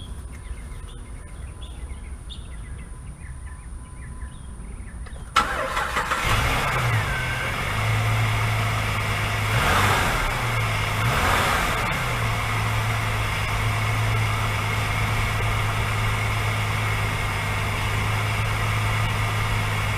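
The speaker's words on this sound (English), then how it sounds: "Let's give this thing a start and see how it runs." A 2005 Jeep Liberty with the 3.7L engine cranks after several seconds of near quiet, catches and settles into a steady, even idle that runs close and loud with no voices.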